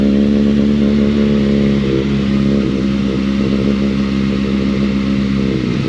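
A motorcycle is ridden in first gear, giving a steady, loud, close engine drone with a constant low hum throughout and a slight shift near the end, with no voices.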